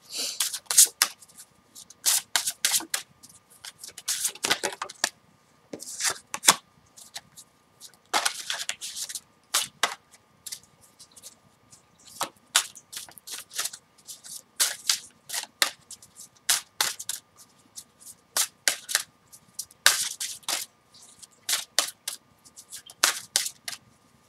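A deck of affirmation cards shuffled repeatedly, with crisp riffling bursts and flicks in irregular clusters throughout, close and distinct against near silence.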